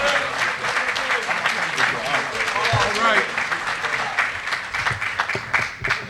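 A mosque audience gives a warm round of applause to welcome a regional minister to the stage, steady dense clapping mixed with crowd voices and a few shouts.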